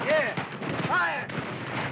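Artillery fires in an old Civil War film: heavy rumbling blasts over a dense battle din, with shouting voices mixed in.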